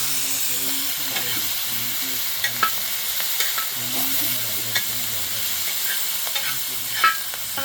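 Onion and tomato frying in a pan for an Indian matar paneer dish, a steady sizzle and hiss with scraping stir strokes, while a voice murmurs faintly in the background.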